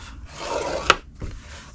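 Cardstock run along a Simply Scored scoring board: a short close rub and scrape with one sharp tap in the middle, then a softer drag, no talking.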